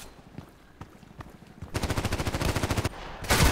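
Suppressed Vintorez sniper rifle fire in a video game deathmatch: a few scattered single shots, then a sustained rapid burst of regular automatic fire, a short pause, and another loud burst at the end.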